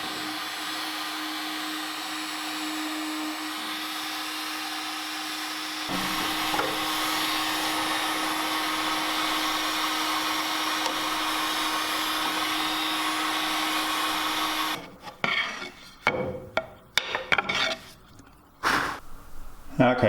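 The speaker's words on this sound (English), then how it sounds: "I'm hoping all I have to do is heat that up with a heat gun" A heat gun blows steadily on a thermoset plastic dust shroud from a table saw. The close, continuous hot-air roar lasts about fifteen seconds, then breaks into short bursts and handling noises.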